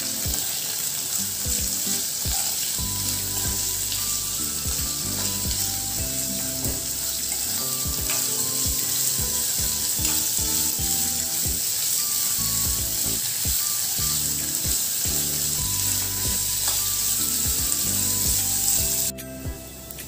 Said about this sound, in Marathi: कांदा आपला परतून झालेला आहे